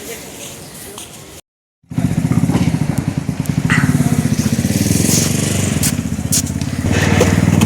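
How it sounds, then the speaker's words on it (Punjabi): A tractor engine rumbles loud and close, steady and heavy, starting after a brief moment of silence and running on without pause. "ਇਹ ਮੈਕ ਦਾ ਫੇਵਰਟ ਟਰੈਕਟਰ ਹੈ"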